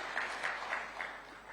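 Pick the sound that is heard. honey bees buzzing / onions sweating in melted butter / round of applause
round of applause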